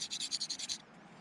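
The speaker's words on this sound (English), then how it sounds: "helps if you kind of scrape the paint off" Paint scraped off a fresh ferrocerium rod, about eight quick rhythmic scratching strokes close up, then a near-silent pause.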